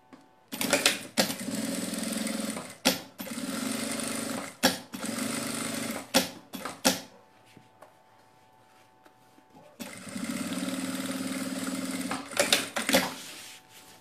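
A sewing machine stitches a seam on a fabric bag in several bursts of a few seconds each, with clicks and handling noises between them and a longer quiet pause before it runs again.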